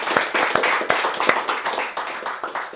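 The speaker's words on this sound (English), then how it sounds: "I think we can give him a nice round of applause" Audience clapping in a round of applause for a departing guest at a casual gathering, steady dense hand claps with a few sharper individual claps standing out, fairly close and sustained throughout.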